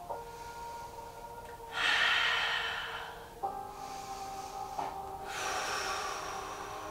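Slow deep breaths during a yoga pose, soft drawn-out inhales and exhales close to the mic, two or three breath swells over a faint steady background hum.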